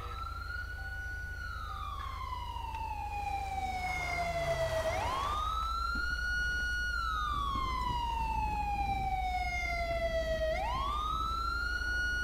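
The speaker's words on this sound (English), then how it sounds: "They need to shut the siren off." A police car siren in the video game GTA V wails in long rising and falling sweeps, loud and continuous over a low engine rumble, with no talking.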